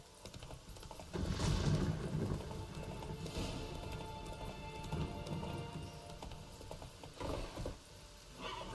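Hooves of Roach, the horse in The Witcher 3: Wild Hunt, clopping rhythmically at a gallop, moderately close, with a faint mechanical rattle of tack underneath and no talk.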